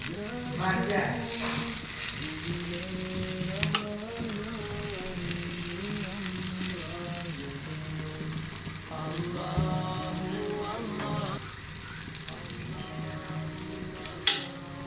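Cheese omelette batter cooks in a pan over low heat with a soft, continuous sizzle, heard beneath a melodic tonal background, ending in a brief clatter.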